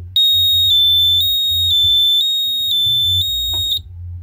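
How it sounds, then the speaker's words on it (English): A home burglar alarm panel sounds a loud, piercing electronic beep in steady rapid pulses, repeating evenly for several seconds before cutting off, with a low background hum underneath. "That's what the burglar alarm does."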